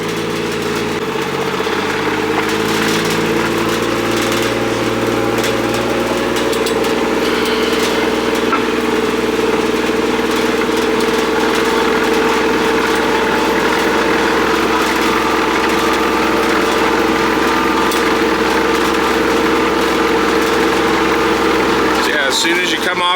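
A 2000s Kubota RTV 900 diesel engine holds back the utility vehicle on a steep downhill, giving a loud, steady low drone with shifting engine tones throughout and someone talking over it.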